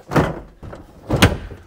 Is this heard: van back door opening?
yes